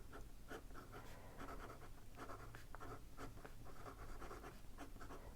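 A wet, smooth fountain pen nib writing on paper with slight feedback, giving soft, close scratchy strokes in quick irregular bursts, faint and alone.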